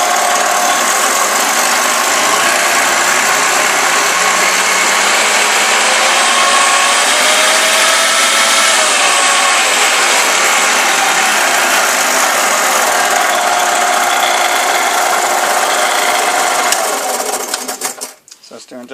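A Shopsmith Mark V woodworking machine's motor runs steadily and loudly, its whine slowly shifting in pitch as the speed control is turned, then winding down near the end.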